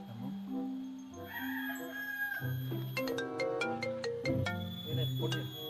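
A phone ringtone plays a repeating electronic melody while people talk over it.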